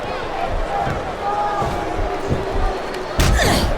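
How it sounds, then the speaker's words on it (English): A facebuster slam in the WWE SmackDown vs Raw 2007 video game, a heavy thud landing among arena crowd noise and commentary, followed by a sharp, loud impact near the end. "What a facebuster!"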